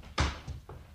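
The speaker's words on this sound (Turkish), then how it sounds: "Kapıyı açayım." A door opening in a Turkish radio drama produces a soft thud followed by two fainter knocks or clicks within under a second, quiet against a faint room hiss, with no voices.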